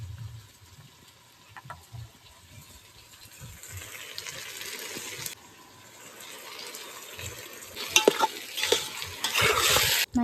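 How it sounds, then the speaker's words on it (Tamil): Tomatoes with curd and green chili sautéing and being stirred in a pan, a soft steady sizzle with scraping stir strokes that grow louder and busier toward the end, no talking. "இப்போ தக்காளி நல்லா வதங்கட்டும்."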